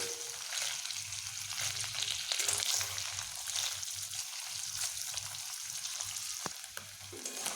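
Steady crackling sizzle of paneer pieces frying in hot oil, continuous and close, with a few sharper pops near the end.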